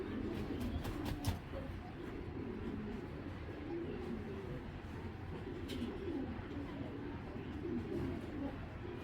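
A ringed racing pigeon coos softly, its low murmuring calls recurring under quiet room noise, with a few sharp clicks near the start.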